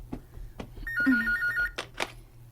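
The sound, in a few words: telephone ringing with an incoming call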